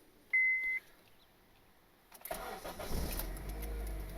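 A boosted Honda Civic, cylinders wet with oil from a compression test, cranks briefly and catches into a loud, steady idle, with a short electronic beep heard earlier over quiet surroundings.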